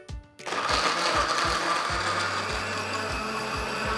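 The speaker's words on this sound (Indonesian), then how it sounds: "aku lagi bikin jus dengan menggunakan blender" A blender making juice kicks on after a short quiet moment and runs loud and close, its motor whining steadily with a regular pulsing rhythm throughout and no voices.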